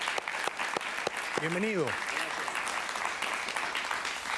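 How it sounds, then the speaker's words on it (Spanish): Studio audience applauding to welcome a guest on a television interview show, a steady dense wash of clapping throughout, with a voice speaking briefly over it. "lo recibimos con un fuerte y cariñoso aplauso"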